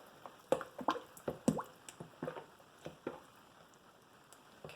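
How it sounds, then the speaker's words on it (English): Fragrance stirred into liquid soap batter, a run of soft wet squishes and drips in an uneven rhythm, close and fairly quiet with no voices. "let me just stir in the fragrance for this part"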